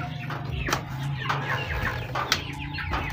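Young chicks clucking and peeping nearby while being fed azolla, with short overlapping calls, a little wing flapping and scratching, no talking.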